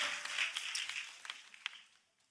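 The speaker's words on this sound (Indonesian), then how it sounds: "Ayo kasih tepuk tangan dulu guys, Jet Youth" Faint, thinning applause from a youth church congregation, a soft patter of hand claps that fades away toward silence within a couple of seconds.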